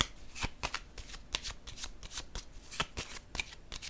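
Playing cards are shuffled for a card reading, a quick run of close, crisp riffling flicks and slaps repeating in bursts with no talk.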